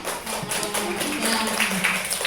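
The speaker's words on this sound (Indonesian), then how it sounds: "Tepuk tangan buat Ica, ya." Busy patter of many hands clapping at once in a class, fairly close, a continuous round of applause with no clear pauses.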